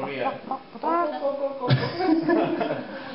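A voice imitates a hen's clucking with the Filipino syllables "putak, putak, putak", rhythmic and throaty, close and fairly loud, broken by chuckling.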